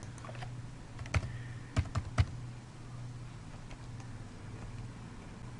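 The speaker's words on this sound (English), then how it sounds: "Type in the name of your group" Someone types a group name on a computer keyboard: a handful of sparse, close key clicks over a low, steady room hum, with no talking.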